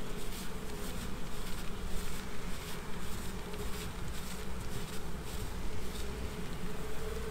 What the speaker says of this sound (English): Rolling the bees again.